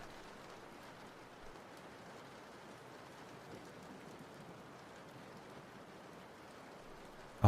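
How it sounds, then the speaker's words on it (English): Late-night rain at a window or roof mixing with a running fan, a steady dense hiss with no clear gaps, fairly quiet throughout until a short bump at the end. "If there's a fan and the rain is drowning it out, perfect."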